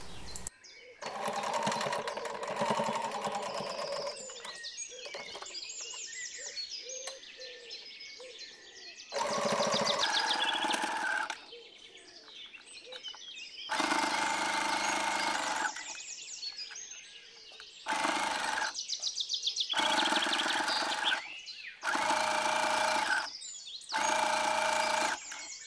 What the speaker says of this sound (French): On vient ensuite piquer au point droit, juste sur la ligne tracée, et de la pointe du col à l'autre.